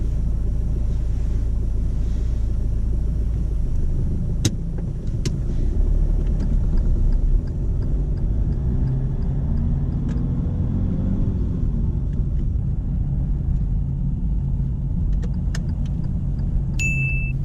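A car pulling away from rest during a driving test, heard from inside as a steady low engine rumble with a few brief clicks and faint jingles, a slight engine rise near the middle, no talk.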